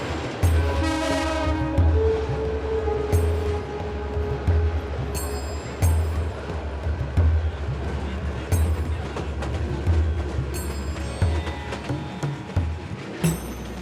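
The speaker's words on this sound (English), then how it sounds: "The trains are uncomfortable and drafty and date from the British colonial period." An old colonial-era passenger train runs in Bangladesh, a rhythmic rumble and clatter of wheels with a horn sounding near the start and intermittent metallic squeals, steady and fairly close.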